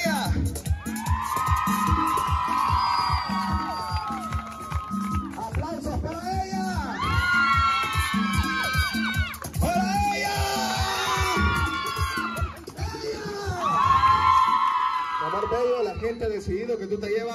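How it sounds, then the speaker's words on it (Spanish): A festive Mother's Day party crowd roars with shouting, whoops and cheering for girls who have just performed, a loud, dense and continuous swell of voices that rises and falls in waves over about seventeen seconds. "Aplausos, gritos y bullas."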